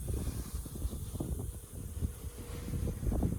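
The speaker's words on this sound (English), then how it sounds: "I'm not sure if you can hear the wind on the phone, but it's getting really windy." Wind gusts buffet the microphone outdoors, producing low rumbling bursts and a steady rushing noise with no voices.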